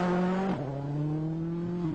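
A Ford Focus WRC rally car runs a gravel stage at the 2010 Rally de Portugal. Its engine drones steadily at high revs, dips briefly at a gear change, then climbs again.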